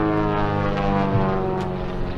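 A Super Chipmunk open-cockpit airplane with electronic ignition flies at the 2024 Leesburg airshow; its propeller engine makes a loud, steady, buzzing drone that holds nearly constant throughout.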